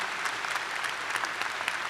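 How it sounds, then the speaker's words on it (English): Steady applause from a commencement ceremony audience at Westfield State University's 2022 undergraduate graduation, a dense even patter of many hands with no voices on top. "I just want to clap again for that message"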